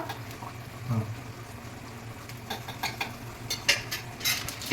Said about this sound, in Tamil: இதெல்லாம் போட்டு நம்ம மிக்ஸ் பண்ணிக்கணும்